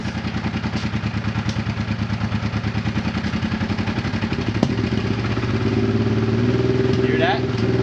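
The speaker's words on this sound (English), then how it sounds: "Hear that? That's the pump." A Honda Transalp motorcycle idles with a steady, close pulsing chug, and partway through a custom fuel pump feeding from an Africa Twin tank adds a continuous higher whine that hums on over the engine to the end.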